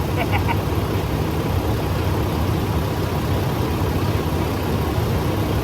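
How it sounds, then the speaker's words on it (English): A truck engine idles steadily after being started, a low continuous rumble holding even throughout, with faint voices briefly in the background. "I just like to crank it up every time I come out here"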